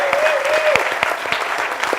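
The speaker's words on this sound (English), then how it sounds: "So right now, let's start things off with a round of applause." An audience gives a round of applause for a speaker at a student pitch event, brisk clapping throughout, with a whistle-like tone sliding through the first moments.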